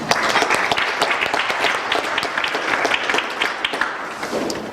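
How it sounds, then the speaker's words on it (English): Audience at a book launch event breaks into applause, a dense patter of many hands clapping with sharp individual claps standing out, sustained and fairly loud throughout. "I hope we can all give her a round of applause"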